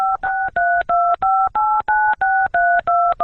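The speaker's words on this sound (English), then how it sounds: "pressing random numbers on his phone and then hanging up" A phone keypad pressed at random sends a steady run of about ten crisp DTMF beeps, each a short two-tone burst with brief gaps between them, loud and close with no talking.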